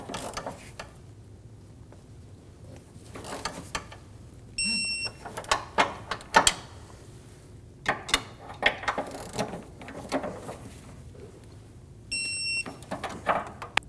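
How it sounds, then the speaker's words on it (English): A ratchet snugs down motor mount bolts on a 2008-2015 Scion xB 2.4L L4, heard as short bursts of close, crisp clicking separated by pauses, with a couple of brief electronic beeps in a quiet room. "Snug the bolts down."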